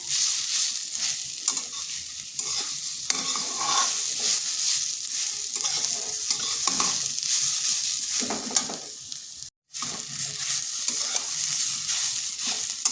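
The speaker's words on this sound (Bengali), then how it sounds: "মূলোটাকে একটু ভালোভাবে ভেজে নিতে হবে।" Radish sizzles steadily as it fries in a pan and is stirred over and over, with scraping strokes heard close up and no talking.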